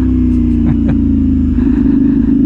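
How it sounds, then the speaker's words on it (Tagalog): A big bike's engine runs loud and close, a steady throaty drone with slight shifts in revs and no voices. "hindi lahat ma-appreciate yung ingay ng motor natin"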